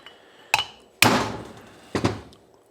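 Hammer striking to knock valves out of a 1993 Honda XR250L cylinder head, three sharp metallic blows spaced apart in a quiet workshop, the middle one loudest with a ringing decay.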